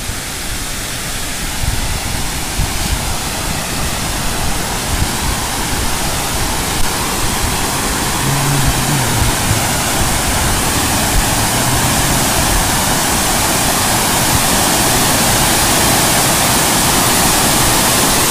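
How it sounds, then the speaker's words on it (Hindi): Roaring waterfall at Kilkila dam, a loud, steady broadband rush of falling water that fills the whole clip without letup, with no voices over it. "यहाँ पे बहुत ही ज़्यादा शोर आ रहा है पानी का"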